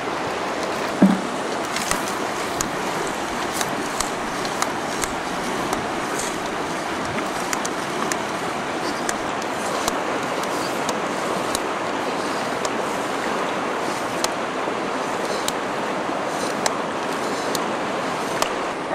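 A motorized pump drawing up gravel and water for gold sluicing, a steady broadband rushing wash with faint irregular clicks of material passing through, running continuously at even loudness with no talk.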